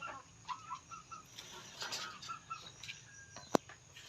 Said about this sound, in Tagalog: So ayan ang aking mga manok.